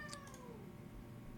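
A cat meows once, short and faint, over a low steady background hum; a single brief call near the start.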